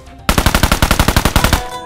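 Rapid burst of Honey Badger assault rifle fire in Peacekeeper Elite, about fifteen sharp, evenly spaced shots ringing out loud and close in a quick automatic rhythm, then stopping.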